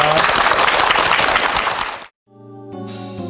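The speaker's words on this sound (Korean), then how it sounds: "응원 박수 부탁드릴게요." Loud, dense applause from a television studio audience fills the first two seconds and then cuts off abruptly, followed by a sustained musical tone.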